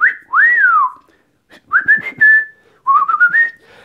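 A blue-fronted Amazon parrot whistles in a few rising and falling tones, close by and clear, with short pauses between phrases and faint clicks underneath.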